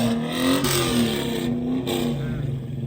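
BMW E30 engine revving loudly at a car meet, a sustained rising and falling roar with strong harmonics, close and dominant throughout with little else audible.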